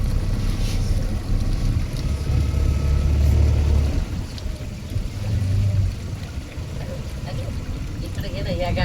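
Boat ride across the water to Poovar Island in Kerala, with a steady engine rumble and wind buffeting the microphone throughout, while people talk nearby.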